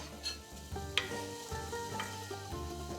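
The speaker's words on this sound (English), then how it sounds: "My garlic is chopped. That's going in with the onions to soften up." Chopped garlic and onions softening in a pan in a Greek kitchen, a soft, quiet sizzle with occasional stirring, set against a faint tonal background.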